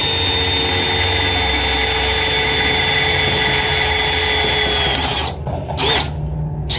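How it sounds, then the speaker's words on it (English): A power drill whines loudly and steadily for several seconds drilling into a Toyota Tundra truck frame, then cuts out, leaving brief bursts of motor noise. "I can see exactly where I got to drill."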